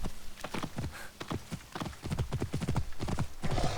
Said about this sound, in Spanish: Vamos a llamar al caballo de Ptolomeo.